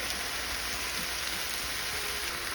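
Raw fish sizzling in a pan with ginger paste gives a dense, even, rain-like frying hiss, loud and continuous across the short stretch.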